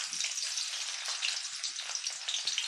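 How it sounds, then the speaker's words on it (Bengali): Onions sizzling as they fry in oil in a pan, a dense, bright, continuous crackle close by with a few soft low knocks underneath. "এই তেলেতেই রান্না করে নেব। পেঁয়াজ দিয়ে দিলাম"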